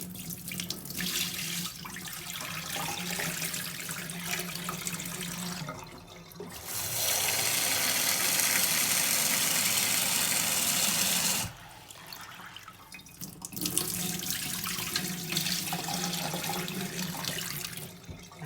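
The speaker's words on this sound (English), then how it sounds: "Soak it in water." Tap water runs into a bowl of organic chickpeas set to soak in a kitchen sink, a steady splashing trickle that swells to a louder, fuller gush midway before easing back.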